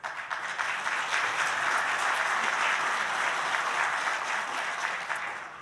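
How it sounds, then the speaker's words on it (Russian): An audience applauding during a formal national address by the president of Kazakhstan, a dense, sustained wash of clapping from many hands that holds steady throughout and tapers slightly at the end. "Хорошо, что вы аплодируете"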